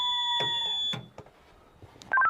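A fire alarm receiver panel buzzer sounds during an alarm valve test, giving steady electronic tones held for about a second, then breaking off amid clatter and faint voices before a short beeping returns.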